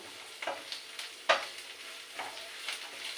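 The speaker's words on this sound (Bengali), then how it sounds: "এটাকে একটু লাল লাল করে ভালো ভাজা" Egg being fried and stirred in a pan until reddish-brown, ahead of a coconut milk curry: crackling sizzle with a handful of spoon scrapes and sharp stirring clicks spaced through the stretch, one louder scrape near the middle.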